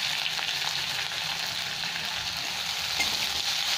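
Chopped onion, four green chillies and nigella seeds sizzle steadily in hot oil, a continuous close frying hiss with no pauses and no voices.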